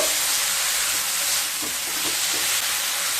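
Dal bhuna cooked down in a pan over low to medium heat gives a dense, continuous sizzling hiss, with faint stirring scrapes underneath.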